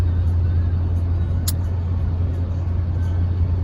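A 1950 Ford hot rod drives along a road with no windshield wipers after rain, giving a steady, loud low engine rumble and road noise close up throughout, with a brief hiss partway through.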